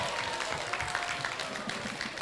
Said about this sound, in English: Ladies and gentlemen, give them another big round of applause.